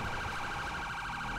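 Police car siren in GTA 5, a loud, steady wailing tone that warbles continuously and sits close, with no talk over it.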